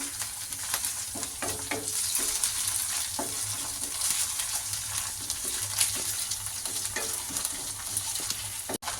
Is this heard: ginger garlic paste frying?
yes